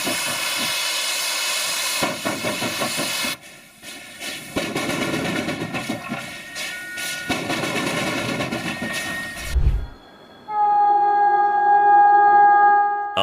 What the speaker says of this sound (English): Near the end of steam at Sandaoling, JS8225 clawed its way out of the coal pit under a brutal load